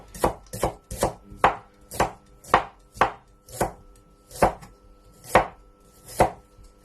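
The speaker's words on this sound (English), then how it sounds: "I'm now going to chop to the onion now." A knife chops an onion on a cutting board in a Chinese fish-with-sauerkraut kitchen, about a dozen crisp, evenly spaced strokes that come close and clear with no talk.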